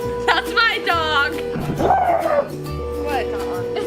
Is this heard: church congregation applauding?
no